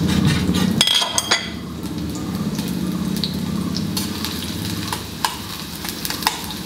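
Chopped onion frying in oil with a little coconut in a pan for prawn and pumpkin curry, a steady close sizzle with a clink of utensil near the start and a few small taps later.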